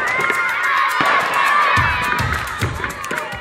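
Parents in simple stands cheer young football players on a pitch, a dense crowd roar with children shouting and whoops, steady and fairly loud, with thumping footfalls of running on the field.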